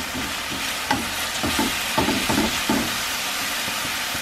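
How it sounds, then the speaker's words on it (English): Callaloo leaves frying in a pot, with a loud, close, steady sizzle and crackle broken by intermittent scraping stirs, no voices. "now it's really starting to fry"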